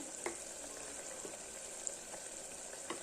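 Ground spice masala with Kashmiri red chilli powder sautés in oil for misal, giving a faint, soft sizzle with a few small spits and light stirring taps.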